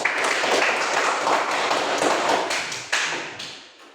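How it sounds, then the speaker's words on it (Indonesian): Classmates applaud in a classroom, a dense patter of many hands clapping at once, loud and continuous before tapering off near the end. "Aplaus untuk teman-teman"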